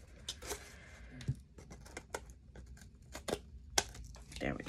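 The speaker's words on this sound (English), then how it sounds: "I'm going to cut the ends of these off because we don't need all this excess" Scissors snip off the excess ends of cardboard pieces for a craft glue book, a series of sharp close cuts and crinkly handling noises, with soft talk in the background.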